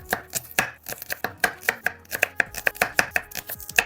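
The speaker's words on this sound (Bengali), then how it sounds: "এবার সবাই চলে যাবে এই চাকুর নিচে, কাটিং হবে কুচি কুচি" Onion chopped finely with a knife on a board, producing quick, crisp, evenly spaced close taps in a fast steady rhythm.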